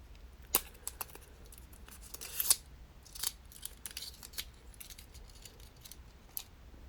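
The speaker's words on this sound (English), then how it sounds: "Let's remove it from the packaging and remove this wrap." Apple Pencil being taken out of its retail packaging and its plastic wrap peeled off, with sharp crinkling, tearing and snipping bursts scattered through a quiet room; close and fairly faint.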